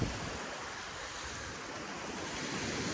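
Surf rolls onto the long beach at Bai Dai in Cam Ranh, a constant loud wash of breaking waves with wind buffeting, steady throughout and without voices.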